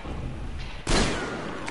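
A shotgun blast in the video game Metro Exodus, one sudden loud burst that decays over the next second, standing alone with no talk.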